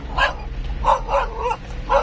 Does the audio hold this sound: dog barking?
yes